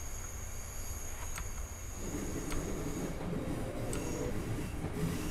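Class 466 electric train from Train Simulator 2014 picking up speed, a steady loud rumble of motor and wheels that thickens and rises partway through, with faint high tonal whine and occasional sharp clicks over the top.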